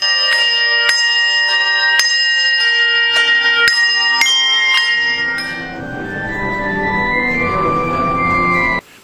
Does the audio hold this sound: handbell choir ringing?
yes